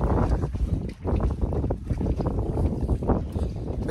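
A cold wind blows outdoors and buffets the microphone in continuous gusty rumbles, loud and close, with no talk.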